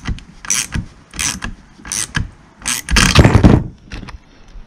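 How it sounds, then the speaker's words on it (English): Plastic parts screwed tight onto a tow rig's truck grille, a series of short ratcheting and scraping clicks in close bursts, with one longer grinding turn near the end. "And those just screwed on in until they're tight."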